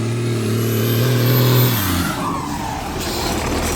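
A Cummins-swapped truck drops hard into reverse, its engine note dipping from a steady drone into a rougher, lower rumble, close and fairly loud with no talking.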